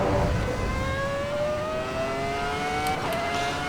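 A race car engine in Assetto Corsa EVO holds a loud, steady drone as it drives, its pitch climbing slowly through the gears with no talk over it.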